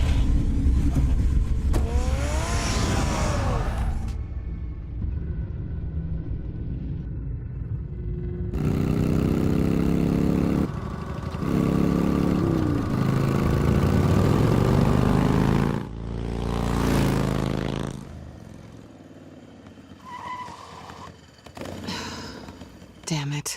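A car engine in the video game Batman: The Telltale Series runs close and loud, surging and revving across a long stretch while speech and music mix in around it.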